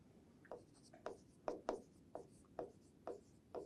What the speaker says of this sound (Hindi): मैं ये आप लोगों के लिए लिख देता हूं।